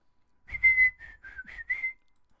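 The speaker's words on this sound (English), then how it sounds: "I whistle while I talks." A person whistles a short run of about six clear, bright notes in quick succession, close and fairly faint, with no talking over it.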